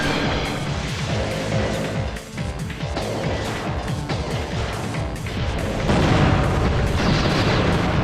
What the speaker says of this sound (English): That's the flame gun.